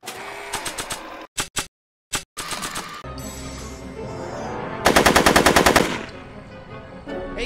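Gunfire in the Back to the Future video game: loud, close bursts of rapid automatic shots in clusters, separated by short silences, with a long sustained burst near the end and no talking.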